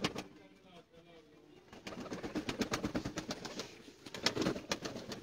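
Pigeons cooing in a bird keeper's loft, soft repeated coos and faint chirps close by, growing busier and denser in the second half with some light background noise.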